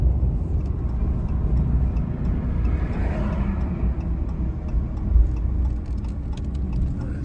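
Steady rumble of a car engine and road noise heard from inside the vehicle while driving, continuous and fairly loud with a brief swell midway.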